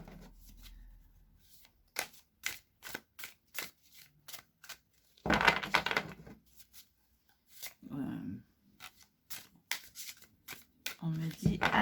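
Oracle cards are shuffled and cut in repeated quick, crisp riffling bursts, close up, while someone speaks in between.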